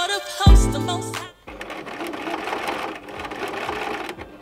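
A sewing machine starts with a brief loud whirring burst, then settles into a steady, fast, close stitching rattle that keeps going to the end.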